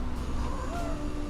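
A pet cat named Toxine gives a single soft, drawn-out meow, close by and fairly quiet over a steady background hum.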